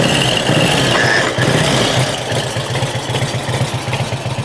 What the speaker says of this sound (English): Fuel on, choke on. One, 2, 3. Choke off, 1 click,